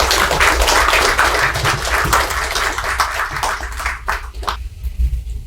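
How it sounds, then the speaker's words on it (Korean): Audience applause at a Korean history forum's founding assembly and first academic conference, welcoming the foundation chairman to the stage; dense steady clapping throughout, fairly loud and close, thinning out toward the end. "이사장님을 큰 박수로 모시겠습니다."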